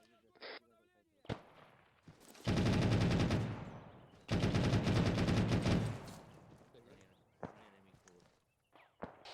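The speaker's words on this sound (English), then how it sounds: "We seem to be taking accurate fire." Bursts of automatic gunfire crackle through a military squad training session in a video game, two long dense volleys separated by a short pause, with scattered shots and movement around them and voices talking nearby.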